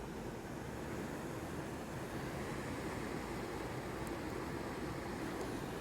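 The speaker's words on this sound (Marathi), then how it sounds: "इथला आवाज आहे हा पाण्याचा सगळा" River water rushing steadily through the rock potholes at Ranjankhalge, Nighoj, a dense, unbroken roar with no pauses, close and constant throughout.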